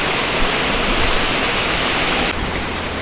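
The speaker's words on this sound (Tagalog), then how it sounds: "Ulan na lang." Heavy rain falls in a dense, steady broadband rush with no distinct drops, loud and constant throughout with no voices.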